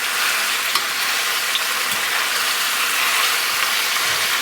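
A full rack of pork ribs browns in a hot skillet, giving a loud, even sizzle and frying hiss that holds steady throughout with a few faint pops and no voices.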